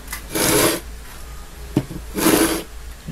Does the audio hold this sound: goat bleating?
no